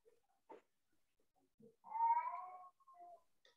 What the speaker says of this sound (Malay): Pada hari ini bunyi kucing pula, dengar tak?